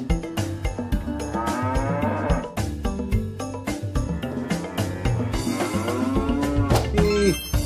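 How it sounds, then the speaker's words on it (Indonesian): A toy cow lets out repeated electronic moos over a bright musical jingle, loud and close with no talking. "ternyata di sini ada juga seekor sapi"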